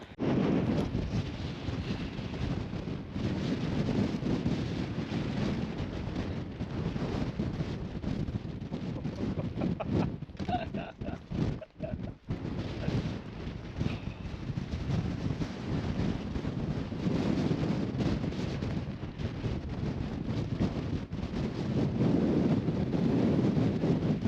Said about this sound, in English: That was windy, very windy.